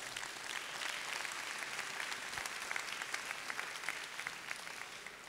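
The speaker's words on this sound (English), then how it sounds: "Round of applause, please." A crowd applauds steadily, dense clapping filling the room at an even level throughout.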